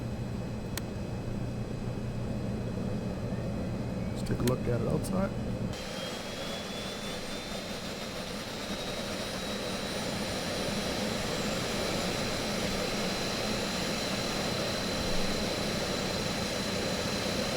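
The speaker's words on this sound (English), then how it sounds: "And let's start up this left engine" Left engine of a cargo plane starting up in the X-Plane flight simulator, a steady jet-like turbine roar with a rising high whine that settles into a constant drone; someone speaks briefly early on.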